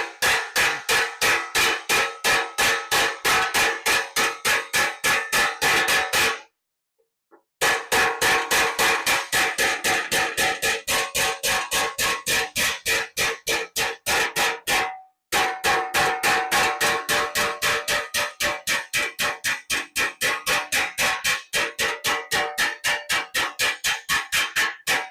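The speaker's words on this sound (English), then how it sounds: "I'm trying to hammer it down a little more. It almost needs to be flat" Rapid, evenly spaced hammer blows strike metal in the engine compartment of a 1962 Ford Falcon, loud and close, continuing in long runs broken by two brief pauses.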